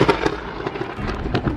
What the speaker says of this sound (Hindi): तभी बड़ी जोर से बिजली कड़की